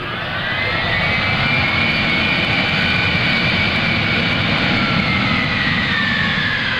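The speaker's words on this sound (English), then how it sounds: "Here comes the reverse thrust. Listen to the sound of the engine change." Engines of a C-5A Galaxy military transport jet roaring in reverse thrust during landing at an airshow, a loud, sustained whining roar with shifting pitch that fills the whole stretch.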